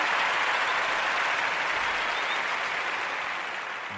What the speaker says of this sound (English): we gonna give you that round of applause for that because you did come